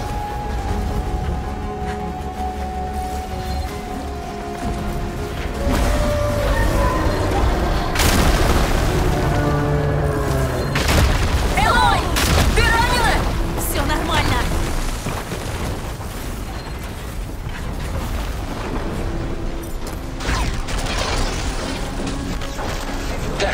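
Heavy booming cannon blasts mix with mechanical clanking and rumble in the game Horizon Forbidden West: Burning Shores, with a voice talking over parts of it.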